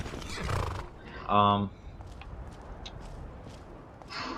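A horse whinnies once in a video game, a short high neigh in the middle, with faint clip-clop and a voice speaking before and after.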